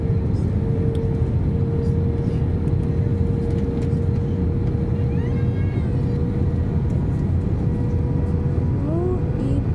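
Inside the cabin of an Airbus A321-200 airliner landing at Sochi, a steady loud engine drone and rumbling roar fill the space, with a sustained tone and faint passing chirps.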